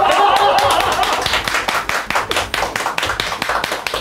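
Applause from a small studio audience during a Japanese talk show, a dense burst of clapping that continues steadily throughout with faint chuckles mixed in.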